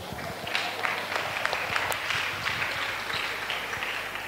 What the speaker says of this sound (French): Acclamons pour eux.